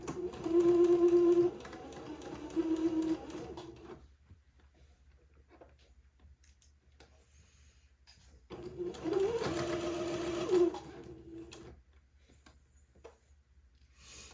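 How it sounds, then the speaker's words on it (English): A sewing machine runs a straight stitch on a lace panel, in two steady whirring bursts of a few seconds each separated by a quiet pause, close and clear with no talk. "let me use a straight stitch and sew this entredot to the end of the lace panel"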